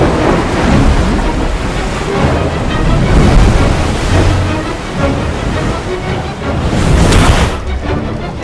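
Floodwater rushes in after floodgates open, a loud, continuous roaring surge with swelling waves of turbulent water over several seconds.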